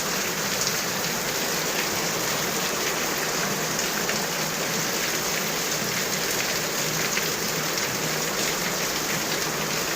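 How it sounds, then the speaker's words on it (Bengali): Heavy rain pouring down at night, a dense continuous hiss of drops hitting surfaces, loud and unbroken for the whole stretch with no voices. "দেখো কত জোরে বৃষ্টি পড়ছে।"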